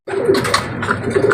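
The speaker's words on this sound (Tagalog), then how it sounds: "Ito nga mga kalapati" Pigeons coo in low, throaty bursts close by, several overlapping calls filling the short moment.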